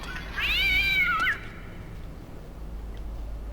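A cat in the video game Blood Omen 2 lets out a single drawn-out meow, rising then falling over about a second, against a steady low game ambience with no talk.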